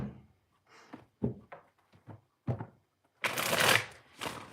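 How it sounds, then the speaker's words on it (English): Tarot cards are shuffled close by in a quiet room, soft riffling bursts and taps followed by two louder, longer riffles near the end. "All right, Natalie, I'm shuffling the cards for you."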